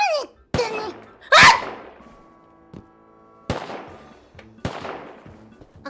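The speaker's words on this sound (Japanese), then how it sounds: "威嚇射撃だろそれ。" Video game gunfire fired as warning shots: several sharp, loud bangs spaced irregularly, each with a short decaying tail, one louder burst near the start, with a faint tonal game hum between shots.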